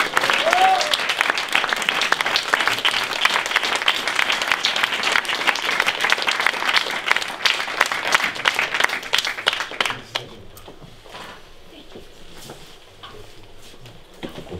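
Audience applause at a film festival awards ceremony, a dense steady roar of many hands clapping for about ten seconds before dropping to a quieter, thinner patter that fades out.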